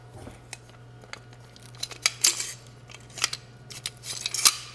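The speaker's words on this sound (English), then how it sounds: "you can hear the detent disengaging" Detent clicking as the handguard nut is unscrewed on a Typhoon F12 shotgun, a series of sharp, close metallic ticks at irregular intervals over a low steady hum.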